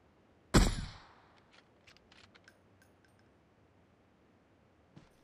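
A single sharp gunshot in the mobile battle royale game PUBG Mobile, loud and close with a ringing decay, followed by faint scattered clicks and small mechanical sounds.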